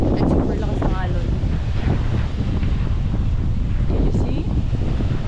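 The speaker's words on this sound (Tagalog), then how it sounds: "Super high tide. And super lakas ng alon." Strong surf at super high tide on a beach on Siquijor, waves roaring steadily and close while heavy wind buffets the microphone, with a person speaking briefly over the din.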